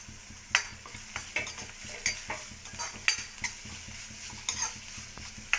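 Onions and green chillies sizzle steadily in a hot oiled pan, with repeated stirring scrapes and light clinks of the spoon against the metal at a loose rhythm, close and clear with no talking.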